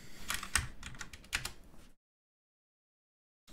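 Quick bursts of keystrokes on a computer keyboard while entering a search in SketchUp, close and crisp for about two seconds before falling silent, with one more tap at the very end.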